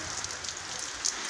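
Light rain falling in northeastern Brazil, a steady soft patter of drops with a few slightly louder splashes, heard alone at close range without any voices.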